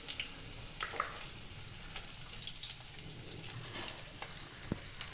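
Onions sauté in a pan with a continuous soft sizzle and occasional faint stirring scrapes, heard at a low level.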